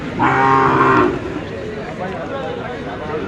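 A single loud, low cow moo lasts about a second at a cattle market in Sylhet, followed by murmuring voices and background bustle.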